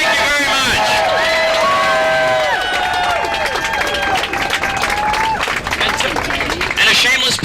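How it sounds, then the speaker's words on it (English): A crowd at a county courthouse in Cleveland, Ohio, applauds volunteers, loud, close clapping mixed with cheers and whoops and lively babble of voices, continuing throughout. "Please give them all a round of applause for all their hard work."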